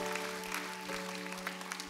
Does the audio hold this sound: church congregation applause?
yes